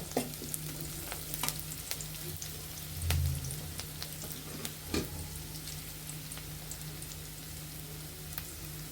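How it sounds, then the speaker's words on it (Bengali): Onion and whole black cumin sizzle and crackle in hot oil for tempering a prawn curry, a steady frying hiss with scattered pops and a brief stir. "শুধু পেঁয়াজ আর কালো জিরে দিয়েই আমরা তরকারিটা সম্বার দিব"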